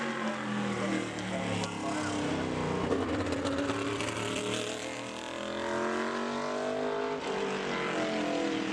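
A modified race car runs a qualifying lap at Bowman Gray Stadium, its engine note rising and falling beneath a wash of broad crowd and track noise, moderately distant rather than close.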